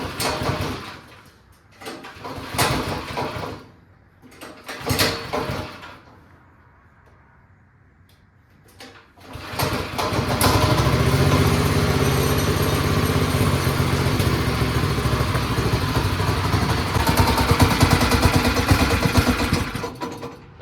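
A van kart engine cranks in a few separate rough pulls, then catches and runs at a steady loud putter for the rest of the clip.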